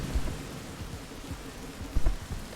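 Steady rain and rolling thunder inside the video game Rain World, a continuous downpour with low rumbles throughout and a heavier thunder crack near the end, no talking.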